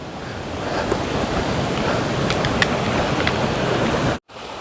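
Rushing water of a river flowing beneath a fence along the Appalachian Trail, a steady broadband wash heard close and continuous, with a brief dropout near the end.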